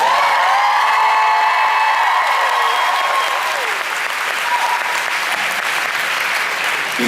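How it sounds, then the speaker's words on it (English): Audience at a Supernatural fan convention panel applauds and cheers for the band, loud sustained clapping with whoops, while a held musical tone rings out early and fades beneath the crowd. "Can we just get a nice round of applause for the band?"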